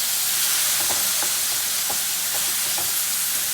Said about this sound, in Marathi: टमॅटो कसं तेलात छान नरम असं करून घ्यायचं